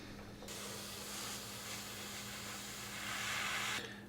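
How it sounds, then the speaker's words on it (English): Airbrush spraying a coat of MRP semi-gloss onto a P-38L Lightning scale model: a soft, steady hiss that starts after a brief quiet moment, holds for about three seconds with slight swells, then cuts off, over a faint low hum. "I am going to go ahead and spray down a coat of MRP semi-gloss."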